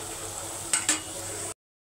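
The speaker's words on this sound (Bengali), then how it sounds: "এখন আমি পেঁয়াজ কুচি ছেড়ে দিব" Chopped onions hit hot oil in a pan, a steady low sizzle broken by two sharp hissing bursts as they go in, then cut off abruptly.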